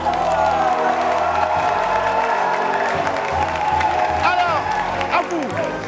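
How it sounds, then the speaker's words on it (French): Audience applauding and cheering for a woman singer at a live event, a dense wash of clapping and whoops with voices mixed in, steady and loud throughout. "on va applaudir encore pour toi"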